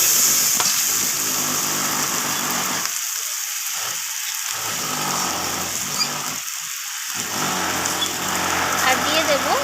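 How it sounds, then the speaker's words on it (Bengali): Spice paste with green chilies sautéing for a tomato rohu fish curry, a steady loud sizzle and frying hiss with brief dips where the pan is stirred. "তো আবারও আমি কষিয়ে নিচ্ছি সমস্ত কিছু।"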